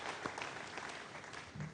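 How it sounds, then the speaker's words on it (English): Faint, brief applause from the crowd at the control center for the Ariane 5 ES launch carrying ATV-2 Johannes Kepler, a soft, even patter of clapping lasting under two seconds. "let's applaud all of this"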